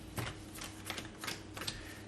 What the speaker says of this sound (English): And then shuffle your deck, which I am going to do very poorly right now